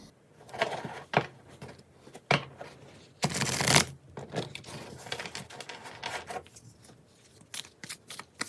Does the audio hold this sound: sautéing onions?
no